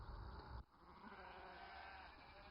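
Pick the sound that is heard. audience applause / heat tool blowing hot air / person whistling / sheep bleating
sheep bleating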